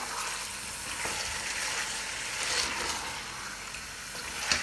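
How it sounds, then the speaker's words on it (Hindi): Chicken frying with onions for a homemade biryani sizzles steadily in a hot pan, a dense, continuous crackle with occasional stirring taps near the end. "अब हम प्याज के साथ चिकन जो है ना वो 10-15 मिनट तक फ्राई करेंगे।"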